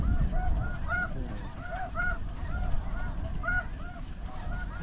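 Flocks of snow, blue, Ross and speckled-belly geese and lesser Canada geese honking overhead on a windy goose hunt over decoys, a dense chorus of repeated honks over strong wind rumble.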